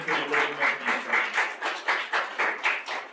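An audience at an academic talk on social sciences and climate change adaptation claps to welcome a speaker, a steady round of applause in even rhythmic bursts, moderately loud and without speech.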